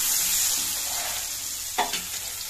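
Garlic, ginger and bay leaf frying in oil in a pan, a steady close hiss of sizzling with one short scrape of stirring near the end.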